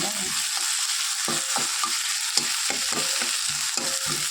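Okra frying with onion in an oily wok, a constant close sizzle with repeated spatula scrapes and knocks against the pan at an uneven pace.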